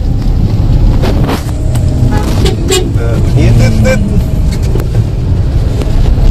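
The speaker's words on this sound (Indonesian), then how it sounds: "klaksonnya juga bunyinya tuh kurang, menurut gua kurang enak gitu" Horn of a 2012 Suzuki Karimun Estilo, several short honks sounding close over a loud, noisy roadside background with a voice faintly in the mix.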